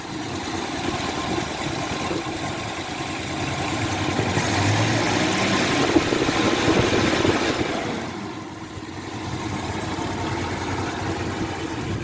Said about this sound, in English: Starts up straight away. Idles lovely.